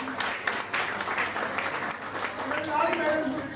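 Audience applause at an evening music event honouring a Padma Shri singer, a short burst of dense clapping from a crowd with a voice over it.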